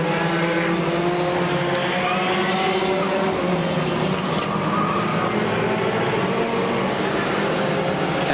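Front-wheel-drive race cars racing around a track, a dense, continuous roar of several engines revving and droning together at close range, loud and unbroken throughout.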